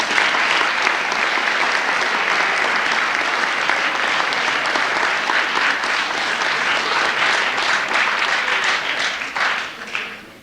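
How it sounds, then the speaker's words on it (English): Loud, sustained audience applause at a school fall sports awards event honoring a team, many hands clapping in a dense wash that holds steady, then fades out at the end. "I'd like a big round of applause for my boys"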